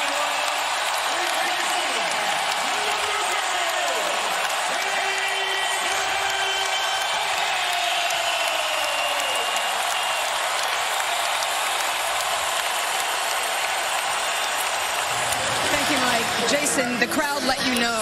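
An NBA arena crowd cheers and applauds Jayson Tatum after his 51-point Game 7 performance against the Philadelphia 76ers, a loud, unbroken roar of clapping and shouting that stays constant, with a voice speaking over it.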